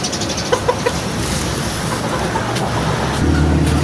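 Clucking and short calls from a broodstag rooster in a backyard breeding flock, a few brief bursts over steady outdoor background noise, moderately close.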